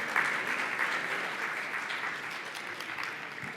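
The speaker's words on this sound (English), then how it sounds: "Please give them a big round of applause, Rick Herrera and Olga Ermolin." Conference audience applauding the hosts as they are introduced, a full steady round of clapping from a crowd, moderately loud and gradually easing toward the end.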